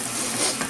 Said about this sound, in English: I'm just going to literally just simmer these down until they're soft